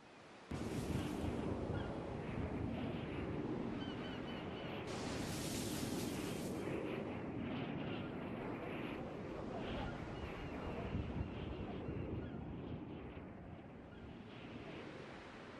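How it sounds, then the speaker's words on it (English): Steady ocean surf washes in continuously through a video game seascape at sunset, a broad close roar with gusts of wind, rising briefly in hiss around the middle and holding even throughout with no talk. "I simply stand and watch the sunset and listen to the waves flapping"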